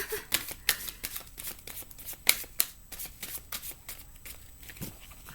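A deck of cards shuffled by hand, a rapid series of crisp riffling bursts and flicks, close and fairly quiet, with faint voices in the background.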